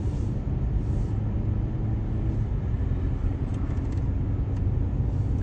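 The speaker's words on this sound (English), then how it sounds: "it's a very smooth truck ride" Steady low rumble from inside a truck during a smooth ride, a continuous broadband drone heavy in the low end with no talking.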